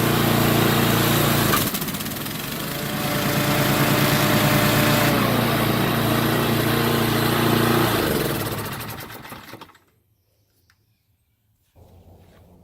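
A Toro TimeMaster lawn mower engine runs loud and steady just after a blade drive belt change, droning for several seconds before winding down and cutting out, followed by near silence and a faint low hum.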